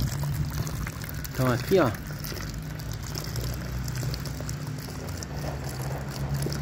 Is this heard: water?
yes